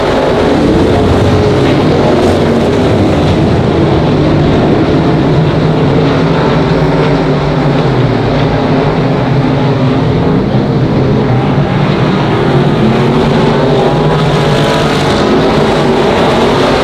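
Race cars roar around Monarch Motor Speedway in a loud, continuous engine drone that rises and falls as the pack circles close by, with no clear voices over it.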